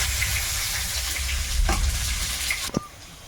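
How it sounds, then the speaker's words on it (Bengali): Dried red chilli, bay leaf and whole cumin sizzle in hot oil in a pan, a loud steady frying hiss up close, ending with a brief scrape or clatter. "তেলের মধ্যে একটু শুকনো লঙ্কা তেজপাতা আর একটু গোটা জিরে দেবো"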